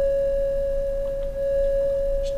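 A Korg Minilogue synthesizer holds a single steady flute-like tone, pure and close with faint harmonics, sustained throughout without any voice.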